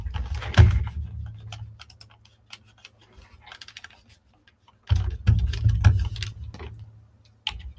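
Clicky keystrokes on a wired USB computer keyboard come in two quick bursts with a quiet gap between, close and fairly loud, followed by a single stray tap.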